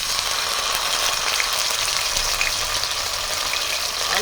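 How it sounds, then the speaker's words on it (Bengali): Ginger and green chili paste sizzles hard in hot mustard oil, a loud, steady, dense hiss of frying that fills the whole stretch without a break. "এবার দিয়ে দেবো সর্ষের তেল তেলের মধ্যে দিয়ে দেবো আদা কাঁচা লঙ্কার বাটা"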